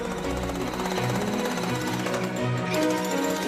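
A jackhammer pounds continuously while demolishing a house belonging to the Calabrian 'Ndrangheta mafia, a loud, dense, rapid rattling that holds steady throughout without pause.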